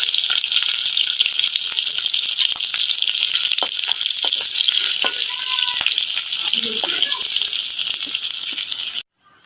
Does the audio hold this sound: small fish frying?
yes